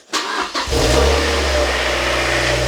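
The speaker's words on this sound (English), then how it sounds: "I'm going to start the engine" A Mazda MX-5 NC engine starting after an oil and filter change: a brief cranking whirr, then the engine catches with a rise in loudness and settles into a steady, close idle.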